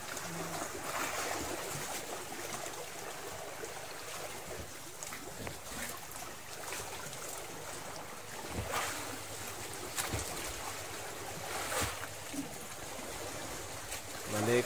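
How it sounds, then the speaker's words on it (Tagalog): Calm sea lapping around a small fishing boat out on open water, a steady broadband wash of gentle waves mixed with wind buffeting the microphone, continuous and close, with no clear voices. "Kalma ng alon."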